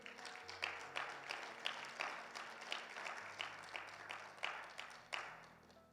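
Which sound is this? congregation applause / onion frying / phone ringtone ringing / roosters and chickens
congregation applause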